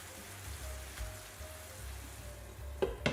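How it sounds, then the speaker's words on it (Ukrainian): About 40 grams of butter melts in a frying pan with capers and marjoram for fish, a faint soft sizzle with a couple of louder clinks near the end, no speech. "Даю розтанути масло."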